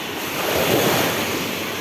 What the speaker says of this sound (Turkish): Ama nedense kıyıda dalga var